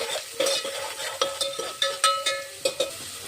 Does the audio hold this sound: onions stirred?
yes